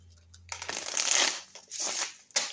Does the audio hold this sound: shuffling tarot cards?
yes